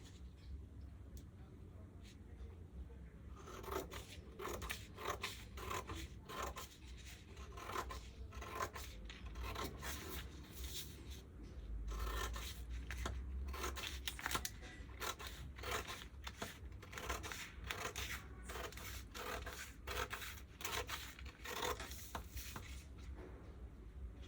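Scissors cutting fabric for the front of a skirt, a steady run of close crisp snips and rasping slides through cloth, continuing for over twenty seconds with brief pauses.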